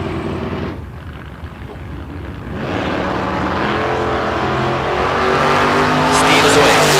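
Red 2000 Corvette launching at a drag strip bracket race, its engine roaring up and building steadily louder over several seconds, with an announcer talking over it.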